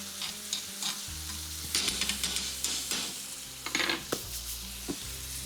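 Prawns and cherry tomatoes sizzle in a hot pan while being stirred, a continuous close frying hiss broken by repeated scraping and clinking of utensil against the pan.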